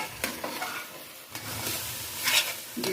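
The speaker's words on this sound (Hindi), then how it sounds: "चम्मच आपने मुसलसल चलाते रहना है" A spoon stirs pumpkin halwa in hot ghee, giving a steady close sizzle with soft scraping strokes and a few brighter clinks against the pan. There is no talking.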